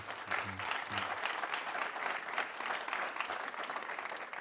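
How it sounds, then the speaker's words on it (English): An audience at a chancellors' forum applauds warmly to close a discussion, a steady wash of clapping at moderate distance, with a brief murmur of voices near the start. "So another warm round of applause for Prof. Masala."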